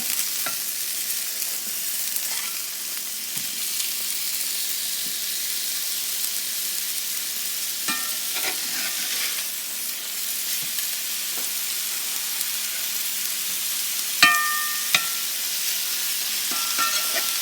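Turkey burgers fry in a pan with a steady, close sizzle that runs throughout, broken by a few soft scrapes and clicks as a spatula turns a patty over, plus one sharper clatter near the end.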